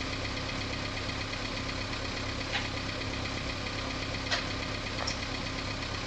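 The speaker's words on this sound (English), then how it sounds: "Right, engine is on." Digger engine in Farming Simulator 19 running at a steady idle, a constant rough mid-pitched rumble with faint clicks and knocks on top, close and even, with no talk.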